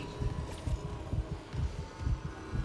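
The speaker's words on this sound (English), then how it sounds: "you can hear Isaac's heartbeat get a little bit louder and begin to race" A character's heartbeat pounding in the video game Dead Space (2023), a steady, low, muffled thumping rhythm of paired beats over a faint hum, with no voices.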